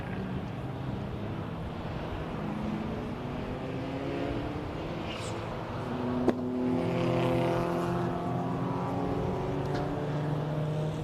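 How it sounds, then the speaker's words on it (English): MG Car Club race cars lapping through Druids at Brands Hatch, a continuous layered engine drone with rising and falling tones as several cars pass, loudening at mid-clip, heard from trackside amid some wind noise. "You just see the cars filing round."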